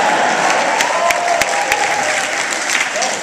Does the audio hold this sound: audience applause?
yes